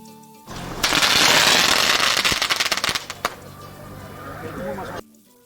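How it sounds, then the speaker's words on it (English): A rapid string of firecrackers set off in front of a vehicle at a ceremony in Bolivia crackles and pops loudly for a few seconds, the bursts thinning out toward the end amid outdoor noise. "Firecrackers were set off in front of the vehicle to finalize the ceremony."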